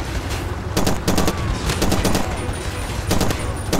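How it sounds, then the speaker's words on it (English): Gunfire in Far Cry 2 during a barge defence, with several separate bursts of sharp shots scattered over a few seconds against a steady, noisy game background. "And of course I'm being shot at from the back"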